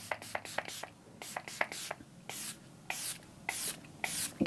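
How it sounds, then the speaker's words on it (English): Hard Candy setting spray misted onto a face, with a rapid series of short, sharp hissing spritzes, several in quick succession and a few longer ones, close to the microphone. "And then I'm gonna go ahead and set everything with my setting spray."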